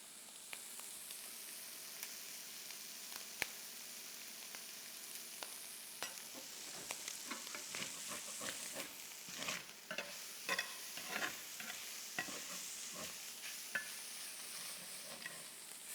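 Italian sausage sizzles steadily in a pan while a utensil breaks it up, with a soft frying hiss under a run of scraping stirs that grow busier toward the end; nobody talks.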